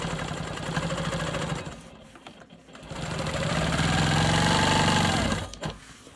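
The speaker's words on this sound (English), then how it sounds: "I'm going to go ahead and quilt this orange square in the center" A sewing machine quilting an orange square at the center of a star quilt block, running in a steady close whir, slowing and dipping briefly, then speeding up again before stopping.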